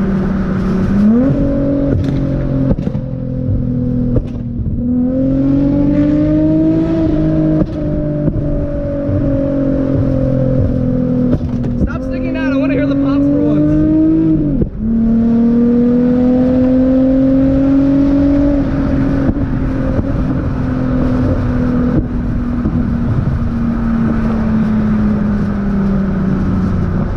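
A Nissan G35 fitted with a Tomei exhaust drives under a loud, continuous engine drone, rising and falling through gear changes with sharp pops and bangs on the overrun. No one speaks.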